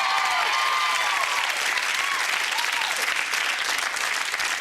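A television studio audience claps and cheers as a game show contestant is introduced, sustained loud applause holding for several seconds with faint tonal music under it.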